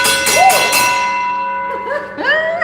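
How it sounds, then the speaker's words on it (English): An old firehouse alarm gong, the kind once fitted to trolley cars, rings out in loud metallic strikes, the ringing tones decaying and lingering in the room. "that's the alarm, the gong. That's the same that was on the front of the trolley cars."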